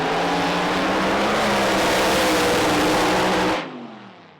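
A Pro Mod drag racing car launches hard off the line at a British drag racing championship, its engine a loud, sustained roar for about three and a half seconds before cutting off abruptly and fading.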